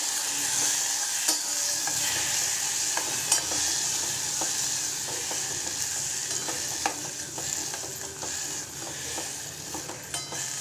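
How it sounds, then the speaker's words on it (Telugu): Tomato, drumstick and green chillies being stirred into simmering dal for pappu pulusu, with a steady wet sizzle and scattered spoon scrapes and clicks against the pot running the whole time, close and continuous. "మనం తరిగి ఉంచుకున్న టమాటా, ములక్కాడ, పచ్చిమిరపకాయలు ఇవన్నీ వేసేసుకోవాలి. వేసుకుని ఒకసారి కలుపుకోవాలి."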